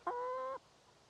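A single hen kept in a backyard coop built from an old shed gives one short, clear, nasal squawk lasting about half a second, close and fairly loud, then quiet.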